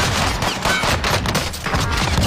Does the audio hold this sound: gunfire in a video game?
yes